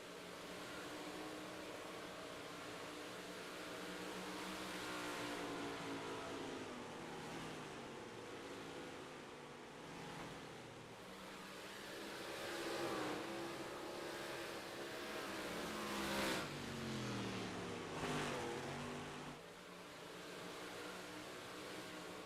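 Race cars circling the dirt track at Knoxville, engines droning from a distance with rising and falling revs as they pass, a continuous faint roar that swells and fades over twenty seconds.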